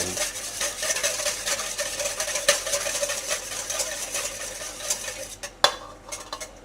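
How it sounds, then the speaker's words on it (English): Egg yolks being whisked into a reduction in a pan over heat for hollandaise, giving a steady fast scraping and clinking of whisk against metal with one sharper clank near the end. "whisk the egg mixture over the heat until it actually starts to come together"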